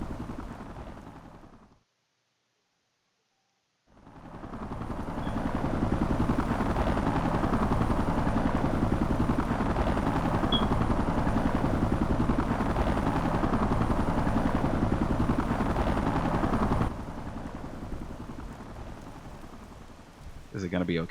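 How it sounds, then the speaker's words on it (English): A helicopter in the video game Xenoblade Chronicles X cuts out briefly, then returns as a steady, loud, whooshing rotor roar that holds for many seconds before easing slightly toward the end. "That's a pretty dangerous way to have a helicopter."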